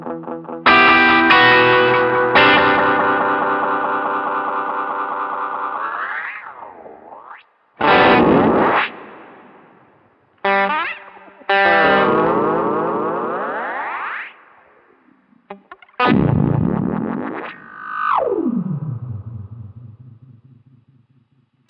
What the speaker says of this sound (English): It really self-oscillates if you bring the repeats up higher or milliseconds lower.